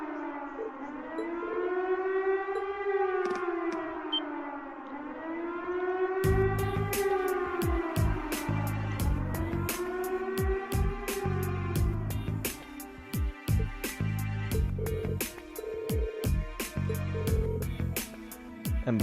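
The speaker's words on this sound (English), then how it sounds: "Bomb sirens?" Bomb sirens blare in the game Trails of Cold Steel, a loud rising-and-falling wail in slow repeated cycles, later joined by a rapid stream of sharp cracks and thuds that keeps going under it.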